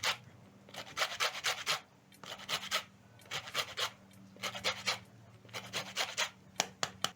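A lemon is zested on a grater into a bowl for mandazi dough, giving close, rhythmic bursts of dry rasping strokes with short pauses between runs.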